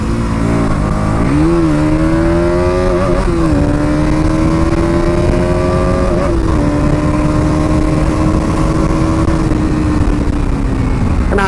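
A BS6 KTM Duke 200 motorcycle engine revs up hard and holds a high, rising buzzing pitch, loud and close and continuous, with no talking.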